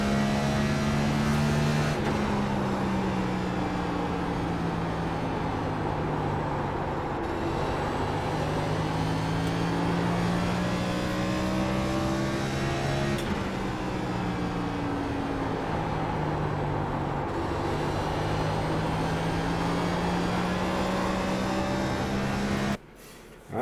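A NASCAR Next Gen race car engine in the iRacing simulator at Richmond, a steady loud drone whose pitch rises and falls through repeated acceleration and lift-off cycles, cutting off abruptly near the end.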